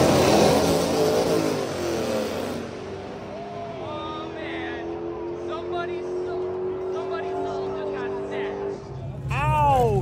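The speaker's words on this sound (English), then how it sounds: "and now look it, we're drag racing." A drag racing car accelerates hard with a loud revving roar that settles into a steady high engine whine, then a sharp rev burst at the end.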